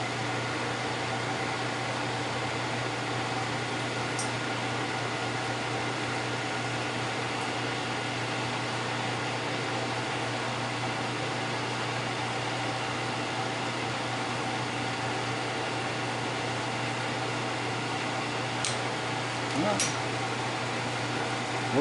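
An MSC milling machine runs steadily after oiling and cleaning, giving a constant close mechanical hum with a whirring drone throughout. A faint click or two breaks in near the end.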